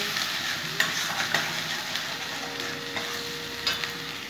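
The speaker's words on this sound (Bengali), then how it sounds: "পেঁয়াজটা দিয়ে দিলাম। ভালো করে কষে নেব।" Onions fry in a pan with a steady, bright sizzle while a spatula scrapes through them in a few light, irregular strokes, close by and unaccompanied.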